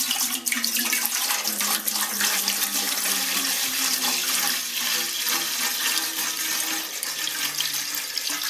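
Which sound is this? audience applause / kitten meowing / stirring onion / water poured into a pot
water poured into a pot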